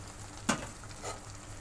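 Fish curry with potatoes sizzling quietly in a pan after water is poured in, with a brief sharp hiss near the start and a softer second swell, then steady low frying.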